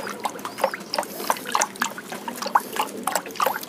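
Water in a pigeons' drinking container, with medicine mixed in, is stirred with a stick. The result is a close, continuous light splashing and trickling with small irregular sloshes.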